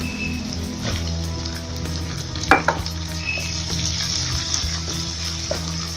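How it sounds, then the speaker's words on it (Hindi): A tomato goes into a pan of chicken frying with capsicum, heard as a continuous oily sizzle with a brief louder splash partway through and faint stirring, with no voices. "अब हम इसमें डालेंगे 1 अदद टमाटर,"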